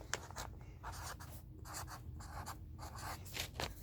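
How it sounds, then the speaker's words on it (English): Marker squeaking and scratching across a whiteboard in short strokes and pauses, close by and alone, as the words cause and effect are written out at the top of the board. "let me grab my markers. We're going to write the words"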